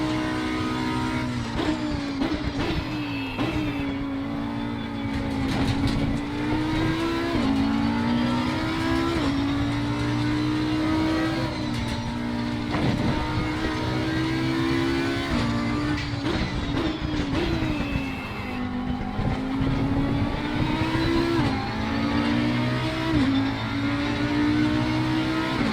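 An Audi R8 EVO GT3 race car at the Kyalami Grand Prix circuit in Assetto Corsa Competizione drives with a loud, steady engine note that rises and falls through gear changes and throttle lifts, running continuously with no talk.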